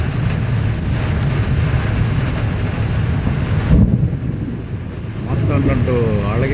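Heavy March rain in Kanniyakumari district falls as a dense, loud, steady roar, with a brief rumble midway and a voice speaking over it near the end.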